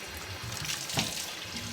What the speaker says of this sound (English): just letting the water run through